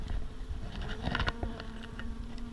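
Honey bees buzz steadily and close in an open beehive, a dense hum with faint ticks and patters mixed in.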